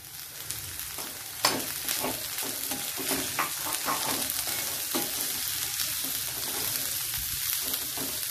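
Cowpea pods fry with onion, asafoetida and turmeric in a pan over medium heat. A continuous sizzle carries through, broken by irregular scraping and clattering strokes of stirring.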